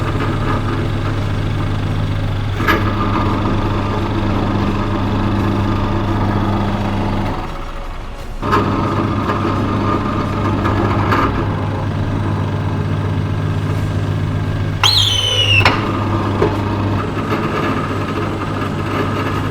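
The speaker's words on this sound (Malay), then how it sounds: "Okey, dah selesai untuk tebuk lubang" Drill boring holes into a metal workpiece with coolant in a fitting workshop, a steady continuous machine hum and whine running throughout with a few brief breaks and a short scraping squeal near the end.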